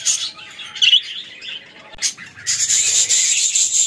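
Caged pet budgerigars and cockatiels chirp and squawk loudly at close range. Sharp single calls come first, then a continuous bright chatter in the second half.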